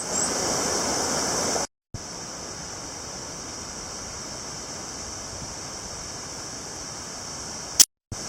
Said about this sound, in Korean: 수량이 엄청나게 많네요 계곡에 자 물소리 새소리 아주 멋집니다